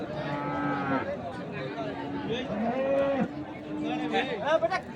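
Cattle at a livestock market in Bangladesh, including a beef cow bound for Chattogram, low repeatedly in drawn-out moos at moderate distance, over a constant murmur of crowd chatter.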